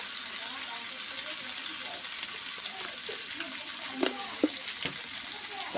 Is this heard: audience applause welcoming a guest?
no